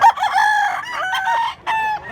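A rooster crows once at a Mantalungon, Cebu market, a loud, close, drawn-out call with a rising and falling harmonic tone, broken briefly before its final note.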